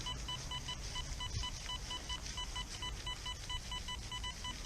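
XP Deus metal detector sweeping over a dime, giving a rapid series of short, evenly spaced high beeps with a faint low rumble of background noise throughout.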